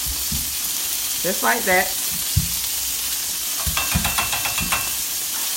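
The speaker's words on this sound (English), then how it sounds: "from the small skillet, just cooking some fries, just cooking a few potatoes" Potato fries frying in a small skillet with little in the pan, a steady close sizzle and hiss throughout, with stirring clatter and a brief spoken remark over it.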